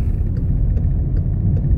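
Steady low road rumble from inside a car driving to a supermarket, a constant whir with faint ticking above it and nobody talking.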